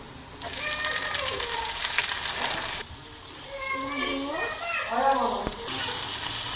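Tomatoes frying in a karahi with chicken, ginger and green chillies for murgh karahi: a continuous hissing sizzle runs the whole time, with a voice heard over it.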